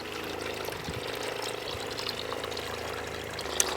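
Filtered water pours steadily from a Clearsource Nomad gravity filter into a container, a continuous close splashing trickle throughout with no talking.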